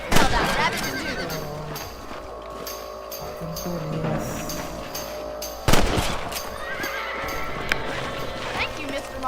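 In the Red Dead Redemption game, a horse whinnies over hoofbeats and bursts of gunfire, with sharp loud impacts at the start and midway, while characters talk.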